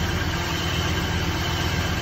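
2001 Cadillac engine idling rough with a misfire, ignition coil and spark plug fault, a steady close dense rumble filling the short stretch with no voices.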